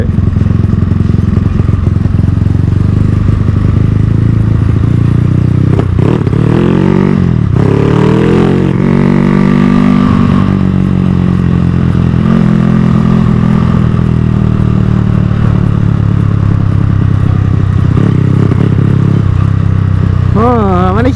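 A modified motorcycle engine idling and blipping at low revs with a slight stutter, loud and close, with a rough uneven throb and rising and falling rev sweeps throughout.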